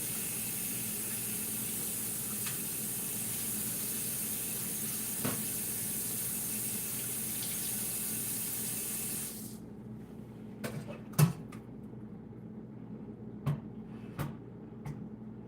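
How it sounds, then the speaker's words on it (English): Steady hiss of tap water running into a kitchen sink over seeded peppers for several seconds, then cutting off, leaving scattered light clicks and knocks of handling nearby. "If your peppers have a lot of seeds on them, give them another rinse."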